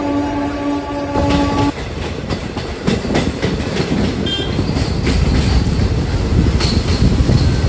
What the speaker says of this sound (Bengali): এই হচ্ছে শিয়ালদা নিউ আলিপুরদুয়ার তিস্তা এক্সপ্রেস।